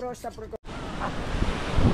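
Outdoor river water rushing with strong wind buffeting the microphone, a steady loud wash following a brief burst of voices at the start.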